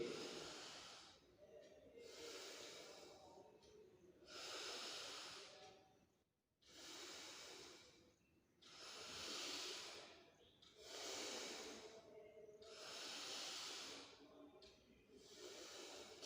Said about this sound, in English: Slowly inhale and slowly exhale.